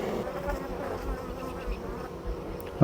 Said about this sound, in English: as calm as these bees are